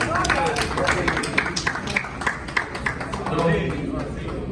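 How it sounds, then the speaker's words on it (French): An audience applauds at a Human Rights Day ceremony. The clapping is brisk and scattered, with distinct claps, and a voice talks over it throughout. "On applaudit s'il vous plaît."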